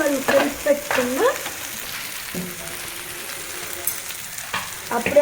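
Oil sizzling and frying in a pan while dhaba-style paneer curry is cooked, with stirring scrapes and spattering crackles close by, fairly steady with a few louder bursts and no talking.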